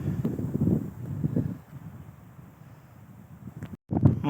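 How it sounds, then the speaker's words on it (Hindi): Cold wind blows across a high mountain valley in Azad Kashmir with snowy peaks, a soft steady rush that swells early, then drops to a faint hiss before a brief gust at the end. "हवा चलनी है अभी ठंडी ठंडी"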